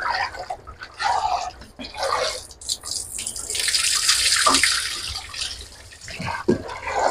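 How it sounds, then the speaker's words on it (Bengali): Mung and masoor lentils are scrubbed by hand in water, giving close, uneven sloshing and splashing with brief pauses and drips. "ডাইলগুলো খুব সুন্দর করে কসলাই কসলাই ধুতে হবে"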